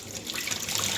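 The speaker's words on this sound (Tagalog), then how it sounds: "Itapon ko muna itong tubig sa tubig ng dryer." Water from a clothes dryer being poured out, a steady close splashing and trickling stream that runs for about a second without pause.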